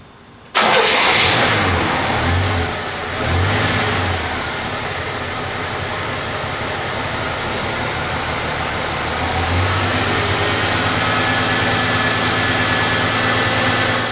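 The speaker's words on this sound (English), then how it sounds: "we'll start up the engine" A car engine cranks and fires after Seafoam cleaner has been added to the crankcase, then settles into a steady, fairly loud idle that hums on without pause.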